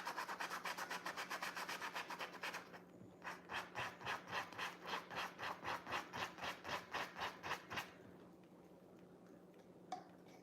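A scratchy paint brush scrapes across a painting in quick, even back-and-forth strokes, close and crisp, first as a dense rapid scrubbing, then as a slower rhythmic series of distinct scratches before fading to quiet.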